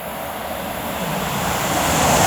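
Class 221 unit 221113 passing at Lichfield Trent Valley on the West Coast Main Line, running Chester to London Euston; a steady broadband rushing roar that swells gradually louder as the train nears, with no talk.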